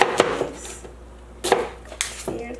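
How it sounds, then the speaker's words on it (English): Knife chopping a medium onion on a board for chorizo with potatoes: a few sharp, close chops, a cluster at the start and more around the middle and end, with no talk. "I'm gonna just chop my onions."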